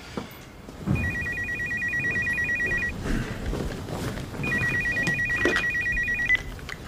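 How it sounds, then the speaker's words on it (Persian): A telephone in a scene from a Persian TV sitcom rings in two long trilling bursts, each about two seconds, clear and fairly loud over a low background hum. "سعید جان تلفن"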